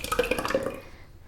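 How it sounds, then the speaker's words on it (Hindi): Water is poured into a lassi mix with a little salt, ready for blending with a cordless rechargeable hand blender, producing a splashing, gurgling trickle that fades after about a second. "अब हम इसमें डालेंगे पानी।"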